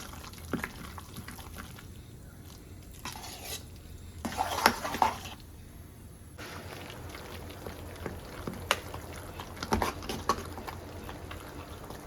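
A large spoon whisks cream in one direction in a bowl as butter forms, giving soft wet sloshing and scraping strokes that come in quiet stretches and louder bursts, close up with no talking.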